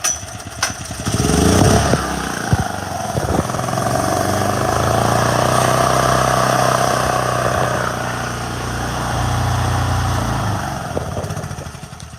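A propane generator engine cranks with a few sharp pulls, then catches and runs with a loud, steady rumbling drone that rises and dips slightly as it settles.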